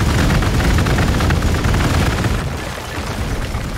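Heavy gunfire in the strategy video game Warhammer 40,000: Gladius, a loud dense barrage of overlapping shots and blasts that eases slightly toward the end.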